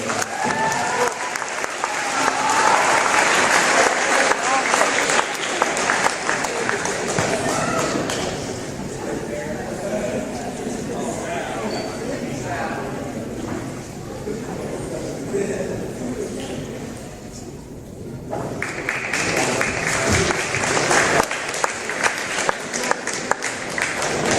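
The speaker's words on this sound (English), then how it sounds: "Big round of applause for Michael." Sustained applause from a school gym audience at a basketball senior night honoring players, broadband clapping filling most of the stretch with a brief dip near the end, with some crowd voices mixed in.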